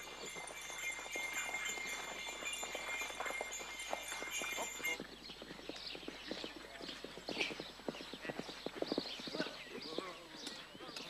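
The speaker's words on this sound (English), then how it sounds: "The ranch at Charlopuszta is an ideal place to look for another riding horse, so that Carty can take on his medieval role" Hooves of several horses clip-clop in a steady trot on a Hungarian ranch at Charlopuszta, with an occasional whinny, fairly close and continuous, while a voice talks over the hoofbeats.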